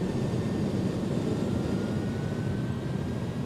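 Airbus A300F jet engines at takeoff power in the X-Plane 11 flight simulator, a steady, loud, broadband roar that holds even throughout without pauses.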